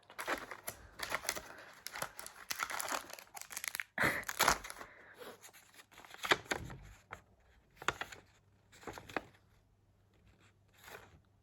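Wrapping paper crinkles and tears as a gift is unwrapped, with bursts of crumpling and ripping close up, separated by short quiet pauses, and no voices.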